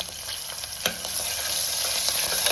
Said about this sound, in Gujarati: થોડી હિંગ નાખીશું લીલા મરચાં નાખી દઈશું લીલા મરચાં થોડા કકડી જાય